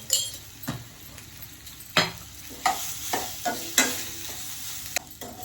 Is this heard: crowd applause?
no